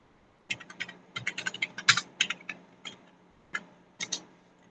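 Typing on a computer keyboard, a quick irregular run of sharp key clicks close by in a quiet room, with short pauses between bursts of keystrokes.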